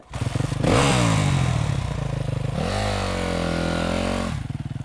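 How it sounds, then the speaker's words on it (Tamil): A motorcycle carrying two riders pulls away, its engine revving up loudly with a rising, then steady drone before easing off near the end. "அப்புறம் ரெண்டு பேரும் அந்த பைக்கை ஏறி போறாங்க"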